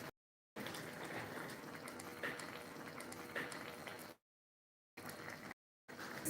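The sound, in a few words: soup boiling in a pot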